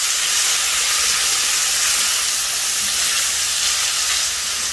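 Chicken pieces cook in a hot pan with a loud, steady, close hiss and sizzle that holds unbroken throughout, with no voices.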